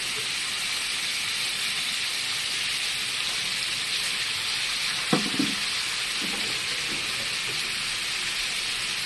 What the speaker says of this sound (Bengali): মশলা দিয়ে ভালো করে একটু কষিয়ে নিতে লাগবে।